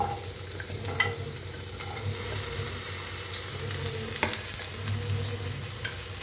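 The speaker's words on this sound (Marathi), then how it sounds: "आता भाजून घेऊया।" Onion, ginger, green chillies and garlic roasting in a pan for egg masala curry give a steady low sizzle, with occasional light clicks of a spatula stirring against the pan.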